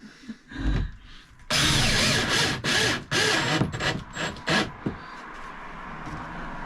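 A power drill driving screws into a boat's headliner board, in several loud, close bursts of whirring separated by short pauses, followed by a quieter tail.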